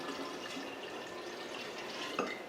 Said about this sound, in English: I'm just going to dump this sugar and water into the water kefir.